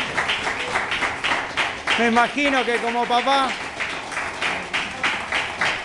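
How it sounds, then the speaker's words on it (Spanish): Applause for Martín at his birthday party, a crowd clapping steadily throughout with cheering bursts in the middle, while someone speaks over the clapping. "un aplauso también para Martín"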